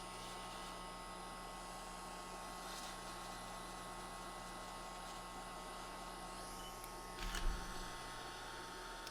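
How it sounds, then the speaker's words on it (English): A hair dryer blows air onto a phone circuit board with a steady whooshing hum at a moderate distance, with a brief bump of handling noise near the end. "So I'm just sort of drying it off just like you would if it were a hair dryer"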